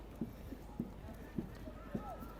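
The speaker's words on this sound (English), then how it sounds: "And that will be the King's Troops, Royal Horse Artillery Regiment." Horses of the Royal Horse Artillery, King's Troop, clip-clop at a steady walking pace during a guard change, four distinct hoof strikes standing out over crowd chatter and background talk.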